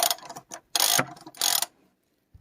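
Close ratcheting clicks from a socket wrench tightening the oil drain plug on a BMW during an oil change, coming in three quick bursts separated by short pauses.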